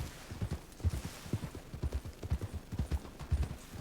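Horse hooves clip-clop steadily in a quick, even rhythm as a rider travels in a video game, loud and close with no talk over them.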